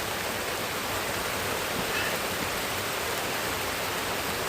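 Rain falling at night, a steady broadband hiss with no change in level, heard alone without any voices.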